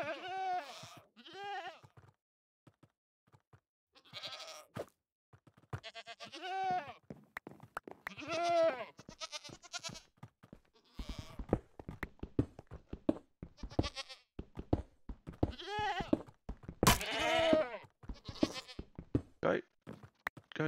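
Goats in the video game Minecraft bleat repeatedly in short, nasal calls, some overlapping, mixed with clicks and knocks of gameplay; the bleats are close and fairly loud.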